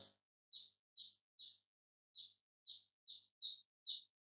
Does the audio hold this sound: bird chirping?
yes